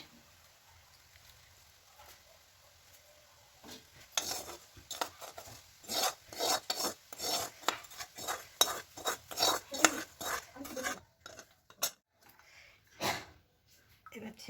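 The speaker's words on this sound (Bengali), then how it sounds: "বোলের মুখে একটা ছাঁকনি লাগিয়ে দিলাম দিয়ে এতেই ঘিটা ছেঁকে নিচ্ছি" Homemade ghee strained through a sieve into a bowl: after a quiet start, a busy stretch of scraping, rasping metal strokes and clinks from a spoon against the strainer and bowl, close and fairly soft, tapering to a few last taps.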